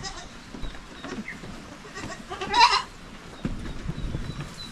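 Goats on a small farm, among them a black one, bleat in a single clear mid-distance call over low background rustling and faint murmurs.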